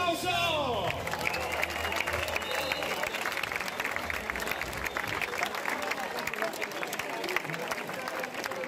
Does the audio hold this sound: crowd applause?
yes